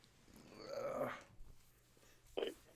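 A house cat growls low and close for about a second, followed by a shorter, sharper growl or hiss a moment later, with background noise and no talk.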